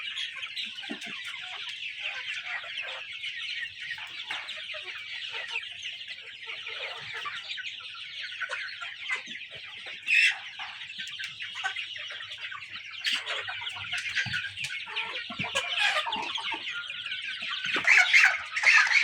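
Many of about 400 Sonali chickens cluck and chatter continuously at a farm, a dense overlapping chorus with occasional louder squawks toward the end.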